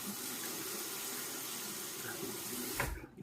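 Tap water runs steadily over a Personna II double edge cartridge razor being rinsed at a sink, a continuous near splashing stream that briefly surges louder near the end before cutting off.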